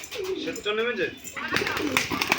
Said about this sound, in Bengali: যে পায়রাটা দেখছেন